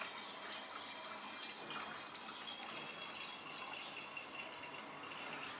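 Dissolved weed-killer solution poured out in a steady, faint stream of hissing, splashing liquid, with no talk over it.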